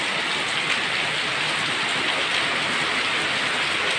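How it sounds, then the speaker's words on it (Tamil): Heavy rain pours down in a dense, steady roar that never lets up, close and loud, with no voices, during a storm in Chennai. "மழை ஊற்றிக்கிட்டே இருக்கு"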